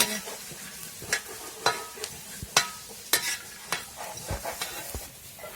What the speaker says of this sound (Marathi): आपण कांदे भाजून म्हणजे कांदे मिरची लसूण फक्त भाजून घेणार आहे